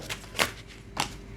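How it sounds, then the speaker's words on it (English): Playing cards are shuffled in two short riffling bursts, soft and close, over quiet background hiss. "I'm not going to shuffle till tomorrow."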